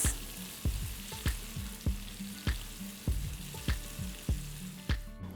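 A tadka of cumin seeds, green chili, kasuri methi, turmeric and red chili powder sizzles in hot oil for Nepali aloo chukauni, with a steady fry hiss broken by sharp regular knocks of a spoon stirring against the pan.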